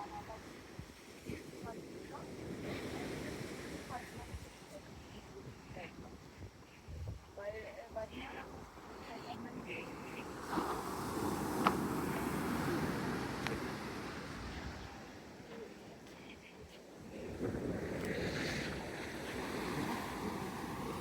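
Ocean waves roll onto a beach at Khao Lak, Thailand, at high tide, a soft, continuous surf wash with gusts of wind on the microphone while someone talks during a beach walk.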